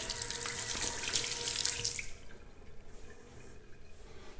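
Hot water runs steadily from a bathroom tap into a sink before a wet shave, loud and close for about two seconds, then cuts off, leaving faint drips and a quiet room.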